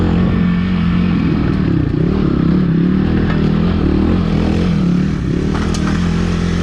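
An XPulse 230 motorcycle climbs a hidden technical trail near Delhi in low gear. The engine drones loud and close, steady with slight rises and falls, while faint clatter and scraping from the terrain sit beneath it.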